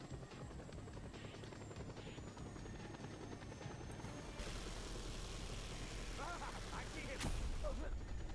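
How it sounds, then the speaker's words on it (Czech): Helicopter rotor drone thumps steadily through a Just Cause 2 firefight, with gunfire crackling and sharper impacts growing louder toward the end while a player talks over it. "aha, druhý vrtulník"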